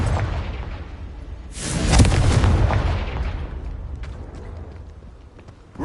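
A Confringo spell blast in the Hogwarts Legacy video game goes off as a loud, booming burst that swells to a peak and then rumbles away over several seconds, with no voices present.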